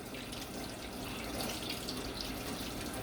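Tap water runs steadily while a container holding a viscous residue is rinsed out, a continuous splashing hiss with no pauses.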